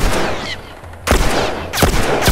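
Gunfire in The Last of Us video game: three sharp, loud shots spaced roughly half a second apart, each with a brief ringing tail, over a low background rumble.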